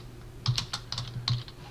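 A short run of keystrokes on a computer keyboard while entering HTML in a code editor, a handful of distinct clicks close and clear with no talking.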